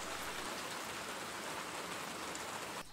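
Steady rain pours outdoors in a dense, even hiss of drops on surfaces, loud and continuous from start to end with no voices.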